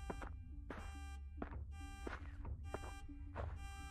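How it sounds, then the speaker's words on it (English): A car alarm in a horror video game blares in a repeating electronic pattern of harsh pulsed tones, about six bursts spaced roughly half a second apart, loud and close. "It was a car alarm."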